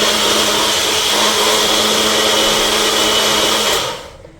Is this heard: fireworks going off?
no